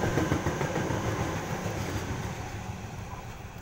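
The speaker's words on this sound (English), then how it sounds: "Waratah set A35 passing" A Waratah electric train, set A35, passes through a suburban Sydney station on the down main, a steady rumbling roar with wheel noise that slowly fades over a few seconds.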